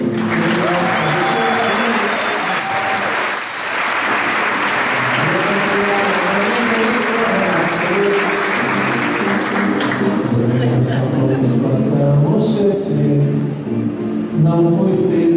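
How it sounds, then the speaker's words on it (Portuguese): A concert crowd at a samba show keeps up loud, sustained applause for fifteen seconds, mixed with cheering voices and a few fragments of music. "Palmas pro Senhor, gente"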